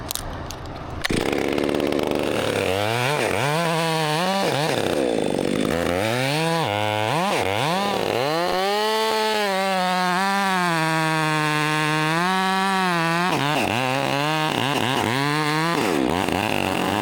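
A chainsaw cuts a single tree during land clearing, its engine loud and close, revving up and down in repeated surges before settling into a sustained high whine through the cut.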